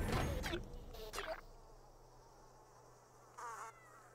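A mosquito in the video game Rayman Legends makes short buzzing bursts near the start and again briefly later, with quiet stretches and a low steady hum between.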